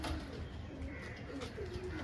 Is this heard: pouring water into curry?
no